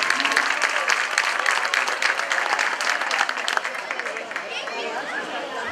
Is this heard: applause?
yes